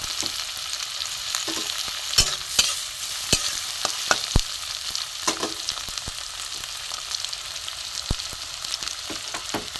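Grated ginger and garlic fry in white oil for mulor chop, a steady crackling sizzle with sharp spoon scrapes and taps against the pan at irregular intervals, close and fairly loud, no talking.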